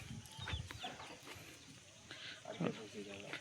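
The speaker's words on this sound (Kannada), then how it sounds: "ನಿಮ್ಮ ಮನೆಯಲ್ಲೇ ಬೆಳ್ಕೊಂಡಿರೋದಂಥ ಕೋಳಿಗಳು ಇವೆಲ್ಲ" Free-range country chickens on a dairy farm cluck intermittently, faint and scattered beneath people talking nearby.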